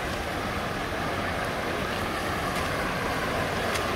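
Waterfall at Red Creek in Monongahela National Forest, West Virginia, a constant broad roar of falling water, loud and close, unbroken for the whole stretch with no talking.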